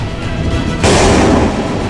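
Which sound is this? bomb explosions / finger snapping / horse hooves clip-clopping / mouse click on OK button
bomb explosions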